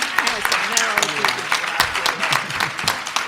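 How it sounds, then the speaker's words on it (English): Applause from an audience fills the clip, a dense run of claps with a few louder bursts, while voices carry over it. "We can give them a round of applause."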